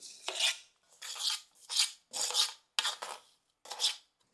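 Boondi is stirred into sugar syrup in a pan for motichoor laddu, giving six rhythmic scraping strokes of a spoon against the pan, each a short rasp with quiet gaps between.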